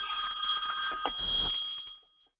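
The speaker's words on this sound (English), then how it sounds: "I'm sorry, that was my phone" Mobile phone ringing, a bright electronic trilling tone heard faintly under low background noise for about two seconds before cutting off.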